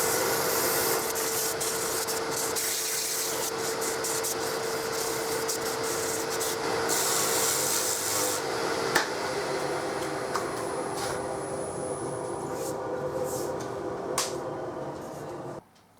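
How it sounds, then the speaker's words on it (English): Wood spindles being sanded by hand with 180 grit sandpaper, a continuous close rasping rub that holds steady for most of the stretch before stopping abruptly at the end. "So we'll go down to the 180 grit. And we sand the flat there."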